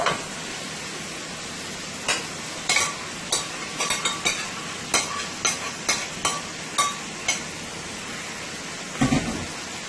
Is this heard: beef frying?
yes